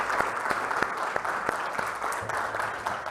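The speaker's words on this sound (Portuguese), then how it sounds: "Palmas para Jesus." A church congregation clapping in rhythm, sharp regular beats under a continuous wash of applause, fairly loud and close.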